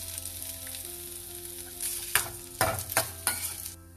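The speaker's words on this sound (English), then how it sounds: "Now to the same pan, we will add little oil and fry these onions." Onions fry in a little oil in a pan, a soft steady sizzle that swells into several sharp scraping stirs and bursts of crackling toward the end.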